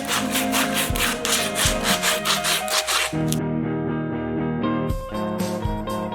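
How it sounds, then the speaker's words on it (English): Sandpaper rubs back and forth against wood for a fingerboard halfpipe in quick, rhythmic, close strokes, pausing briefly before the scraping resumes. "Sandpaper."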